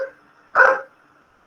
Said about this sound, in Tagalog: Ang ido sa tabang balay